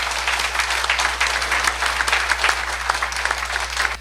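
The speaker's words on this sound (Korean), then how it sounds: "우리 발표자들에게 박수를 한번." Audience applause for presenters at a church debate forum fills the room as a steady wash of clapping. It stays close and even, with a low hum beneath, and fades slightly at the end.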